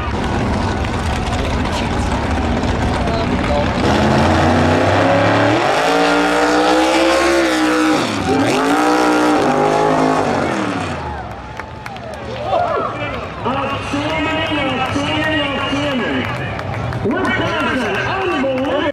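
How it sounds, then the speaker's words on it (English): A drag racing car pulls a wheelstand, its loud engine roaring and sweeping up and down in pitch through several bursts before easing off and revving again, with a crowd noise behind. "He made it back out in time and cranked out this beautiful wheelie."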